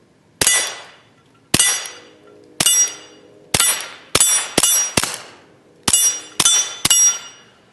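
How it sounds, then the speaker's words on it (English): Suppressed Ruger SR22 rifle with a Yankee Hill suppressor firing at a steel target, eleven sharp ringing clangs in quick, uneven rapid fire, each decaying with a metallic ring, loud and close with no talk. "I'm going to show you just how quiet the Yankee Hill suppressor is on this steel target"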